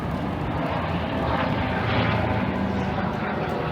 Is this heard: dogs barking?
no